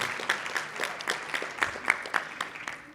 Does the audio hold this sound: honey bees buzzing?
no